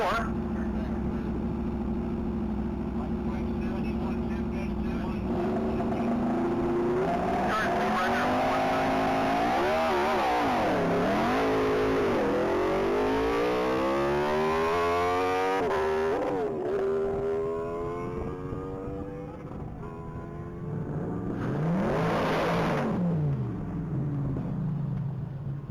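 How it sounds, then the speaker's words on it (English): 2019 Aprilia RSV4 motorcycle on a top speed run at a mile-long racing event, engine note climbing through repeated gear-change sweeps and fading into the distance, with an announcer talking over it. "On deck, another motorcycle machine"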